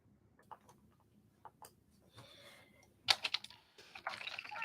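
Typing on a computer keyboard, close and quiet, with scattered single key clicks and then a quicker flurry of taps, no voices.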